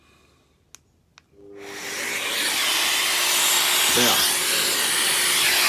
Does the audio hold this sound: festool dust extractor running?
yes